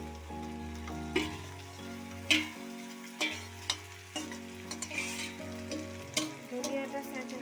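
Goat head meat frying and being stirred in a pan, a continuous sizzle with repeated scraping knocks of a utensil, over a low steady hum.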